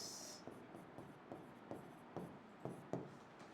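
Chalk or marker strokes on a board during a botany lecture on flower terminology, a series of short scratchy writing taps spaced about every half second, fairly close and alone without talk.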